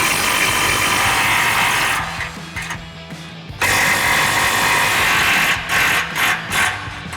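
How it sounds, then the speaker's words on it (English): An impact wrench fitted with an 18mm socket hammers loose rear bumper bolts on a Bronco, two long close bursts of rapid rattling impacts separated by a short pause with light mechanical clicks. "We'll grab our 18mm socket on our impact. Get these two bolts out."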